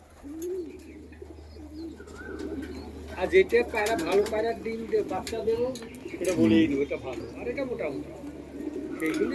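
Pigeons coo from inside a cage, their low rolling calls repeating steadily while people talk over them nearby, with occasional higher chirps breaking through.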